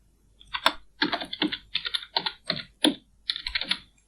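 Fingers type a phone number on a computer keyboard, a close run of crisp key clicks in quick clusters with brief pauses between them.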